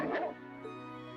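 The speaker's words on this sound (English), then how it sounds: "Bark, bark." A cartoonish dog bark from the Trails of Cold Steel video game, a short bright yip up front, then a steady musical background tone carrying on alone.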